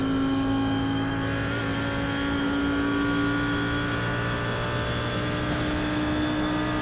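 An Audi R8 GT3 race car engine in iRacing at the Nürburgring Combined circuit, holding a loud, steady high-rpm drone with strong harmonics close by, sustained without a break.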